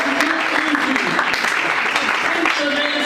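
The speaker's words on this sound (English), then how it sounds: "Please clap for her." Audience applause at a Ghanaian event honouring an HIV ambassador, steady mid-distance clapping filling a few seconds, with a voice faintly audible beneath it.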